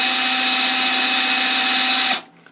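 A power drill spins a sharpening disc at its 12000-grit side for a final polish, giving a loud, steady high whine that cuts off abruptly near the end.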